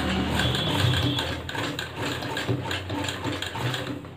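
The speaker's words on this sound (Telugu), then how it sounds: "మిషన్ స్లోగానే తొక్కాలండి." A sewing machine runs slowly while stitching on a trial cloth, giving a continuous close mechanical whir with a soft rhythmic pulse throughout.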